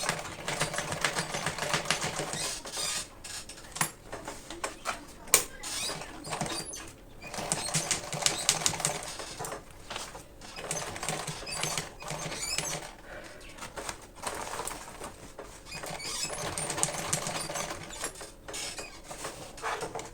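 A sewing machine stitches fabric for a foldable lunch box, giving a close, steady mechanical clatter and whir with small irregular knocks throughout.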